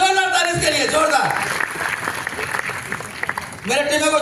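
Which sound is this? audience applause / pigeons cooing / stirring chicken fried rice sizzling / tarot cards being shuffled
audience applause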